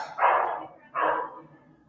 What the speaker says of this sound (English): we got dogs next door